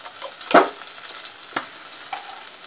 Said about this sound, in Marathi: मी लसूण आहे ते सालीसहित टेचून घेतलेलं आहे, ते मी फोडणीत टाकते